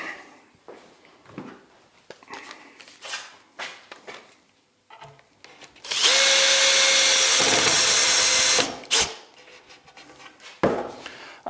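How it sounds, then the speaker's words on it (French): A power drill drives screws into a shelf for a table-saw storage cabinet, with a loud steady whine lasting about three seconds and scattered handling knocks and taps before and after it. "Et on visse."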